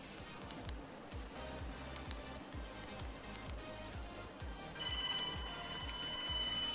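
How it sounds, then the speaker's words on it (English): A phone ringtone plays through Beats S460 Bluetooth headphones in a repeating electronic pattern, thin and fairly quiet as if leaking from the headphones, then shifts to a different tone. "let's test some ringtones on it"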